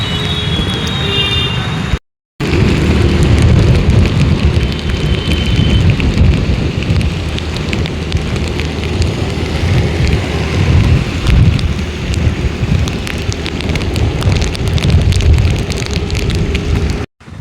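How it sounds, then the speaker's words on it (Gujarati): Heavy monsoon rain pours steadily in Surat, a loud continuous broadband roar of downpour with a brief dropout near the start, no voices heard. "અટાણે જો સુરતમાં જોરદાર વરસાદ આવે છે"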